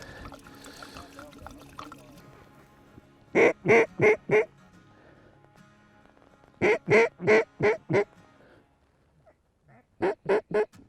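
Three bursts of loud, rapid mallard duck quacking, four or five calls each, close by during a South Dakota duck hunt, with quiet outdoor background between and a little talk.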